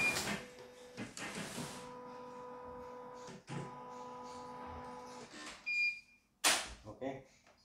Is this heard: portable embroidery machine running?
yes